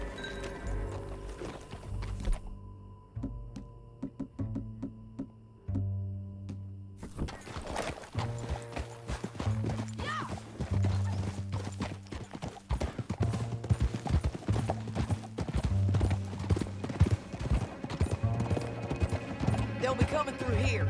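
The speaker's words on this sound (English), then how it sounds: "Back on your horse. Let's get after them." Horse hooves clop in a quick, steady rhythm as riders gallop in the Red Dead Redemption 2 video game, beginning after a brief quieter gap and continuing loud and close beneath a soft musical score.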